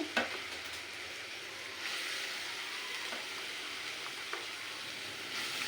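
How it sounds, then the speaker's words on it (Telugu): Sliced onions and green chillies sizzle in hot oil for a raw banana masala curry, a steady loud hiss throughout with a few soft clicks of stirring. "ఆయిల్ అనేది మనకి హీట్ అయిపోయింది ఇప్పుడు ఆనియన్స్ అనేది వేసేసుకుందాం"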